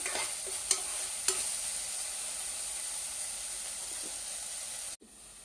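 Onions fry toward brown in a pan, hissing in a steady sizzle with a couple of sharp stirring clicks, until the sound cuts off abruptly near the end.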